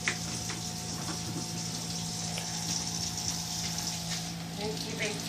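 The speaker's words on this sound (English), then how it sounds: "I like to wash my potatoes before I chop them up and throw them in the pot." Potatoes rinsed under a running kitchen tap, a steady hiss of flowing water with faint splashing and handling throughout, no voice heard.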